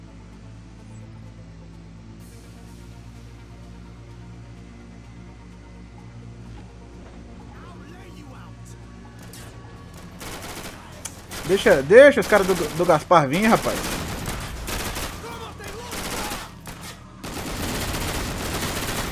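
Gunfire in the video game Scarface: The World Is Yours erupts in bursts of shots midway, over game hum and ambient noise, while someone talks casually in Portuguese throughout.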